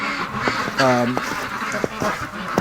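Breeding ducks quack near a shed, several short honking calls and one longer drawn-out quack over muddy outdoor background noise.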